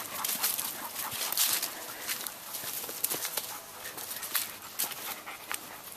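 Dogs panting after running and barking outdoors in mild weather, quick breathy pants close by mixed with scuffling paws, small whimpers and footsteps.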